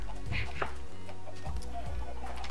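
Chickens in a Minecraft-style island game cluck in short close bursts, a few quick calls over a steady low background hum.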